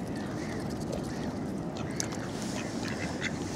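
Ducks quack on the Vltava river near Charles Bridge in Prague, with swans and geese close by, heard as scattered quacks over constant loud water and outdoor noise.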